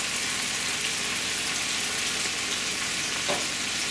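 Ginger beef with sesame oil and cumin stir-frying in a pan, a constant close sizzle with a brief clank of stirring near the end, no talking.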